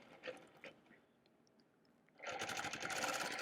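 A sewing machine stitching a guitar-themed quilt: a few faint clicks and quiet handling at first, then the motor kicks in with a loud, close, rapid buzzing run that continues to the end.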